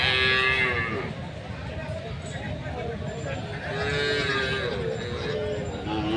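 A dairy cow of a local breed moos at a rural cattle market, drawn-out lowing calls repeated a few times over crowd murmur and background noise.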